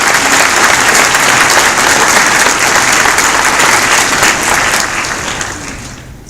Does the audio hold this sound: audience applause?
yes